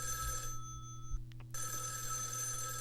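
A telephone rings in a studio, a quiet electronic ring with a brief gap in the middle, heard alone over a low steady hum.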